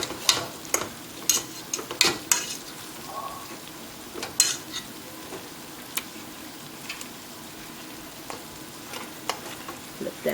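Chicken pieces sizzling in a pan for Spanish chicken stew as they are flipped, a steady frying hiss punctuated by sharp clanks and scrapes of a utensil against the pan.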